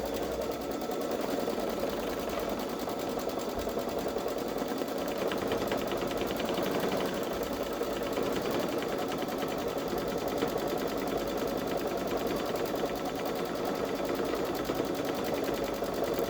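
Baby Lock Solaris 3 embroidery machine stitching an edge-to-edge quilt pattern on a sweatshirt, a continuous rapid mechanical whir at a steady, moderate level with no speech.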